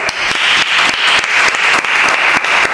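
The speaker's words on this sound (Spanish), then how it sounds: "Un aplauso para Leire." An audience at a live show breaks into dense, loud applause, a steady wash of many hands clapping for a few seconds.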